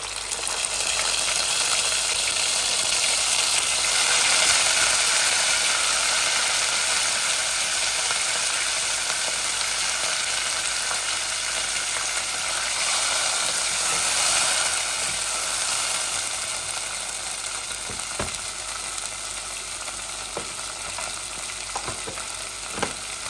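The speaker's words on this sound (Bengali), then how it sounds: "আমার তেলগুলা আগরু গরম হয়ে গেছিল, আমি এখন পেঁয়াজটা দিলাইমু আমার পরিমাণ মতো" Onions fry in hot oil, giving a steady, bright sizzle that holds throughout with a few small clicks and stirs, close and unaccompanied by speech.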